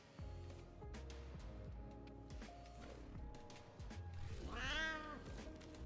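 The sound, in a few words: cat meowing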